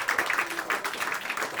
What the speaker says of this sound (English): Can we give a big round of applause for Sharon?